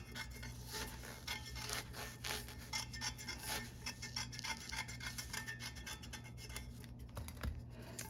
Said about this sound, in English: I'm going to still trim the I'm gonna trim the extra paper off the tumbler